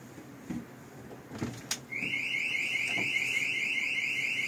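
A few soft knocks and a door movement are followed by a home burglar alarm siren going off indoors, a loud, steady high-pitched electronic tone that continues unbroken to the end.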